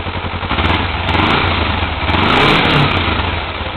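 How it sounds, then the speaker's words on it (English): A 2011 Kawasaki Ninja 250R on its standard exhaust, filmed in a garage, revs a couple of times, its engine roaring loud and close over a steady idle with no talking. "Give it a couple little revs for you."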